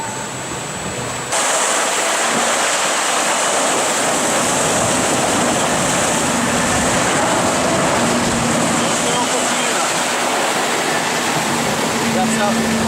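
A sailing boat in a Madeira-to-Martinique transatlantic race surfs waves mid-Atlantic, with a loud, steady rush of water and wind noise swelling after the first second and continuing unbroken under faint voices.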